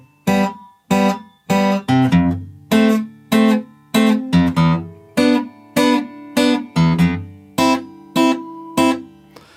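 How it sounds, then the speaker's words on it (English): Fingerpicked acoustic guitar in standard tuning plays the intro of a song, a steady rhythm of plucked notes and ringing chords repeating roughly every second, close and clear with no voice. "Guitar's in standard tuning and the intro sounds like this."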